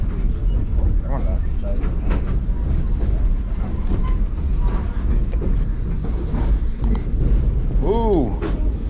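Continuous low rumble of a Nevada Northern Railway train moving in Ely, Nevada, captured from aboard, steady and close, with voices chatting throughout.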